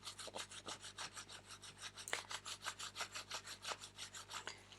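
A hand rubbing and rolling the edges of a wet felt bowl on a tabletop makes a steady, rhythmic rasping swish, with evenly repeated strokes heard close up and alone.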